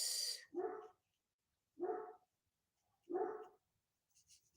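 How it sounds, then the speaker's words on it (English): A dog barks three times at even intervals, each a single sharp bark with silence between, somewhat distant. "I apologize for the dog barking in the background."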